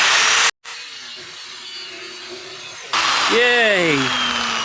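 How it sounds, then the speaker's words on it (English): A grinding wheel works a small throttle part for a Coleman KT196 go-kart with a Predator 301 engine. It gives a harsh, steady whine that drops out briefly, then returns with a sweeping, falling tone, and a voice calls out briefly. "I'll clean it up with a grinding wheel just a little bit"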